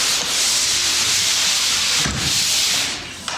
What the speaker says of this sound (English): All you need to do if you use a sander is just kind of a quick pass.